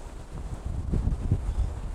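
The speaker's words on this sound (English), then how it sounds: "Super windy." Gusty, cold winter wind at Lake Michigan roaring across a microphone, low rumbling buffets that swell and pulse steadily throughout, with no one speaking.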